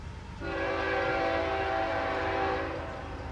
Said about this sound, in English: an intermodal train heading to Port Newark, New Jersey